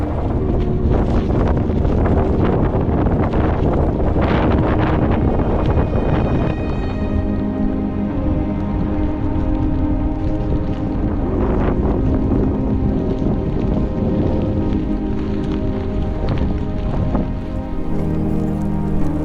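Strong, steady wind roars and buffets the microphone on a Grand Canyon trail during a winter storm with rain and snow, loud and continuous throughout with gusts rising and falling, and no talking.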